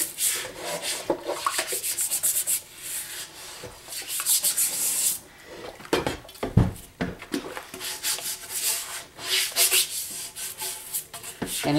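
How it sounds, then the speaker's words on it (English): A stiff natural-bristle brush scrubs a cast iron pan in repeated close, loud rubbing strokes, with rhythmic bursts of dry scraping and brief pauses between passes. "this is a cast iron brush, and it's really just a natural bristle brush"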